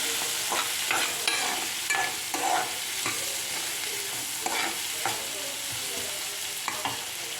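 Onions, curry leaves and two green chillies are stirred in a hot pan for egg curry. A dense, steady sizzle runs throughout, with spatula strokes scraping through it in bursts, and nobody talks.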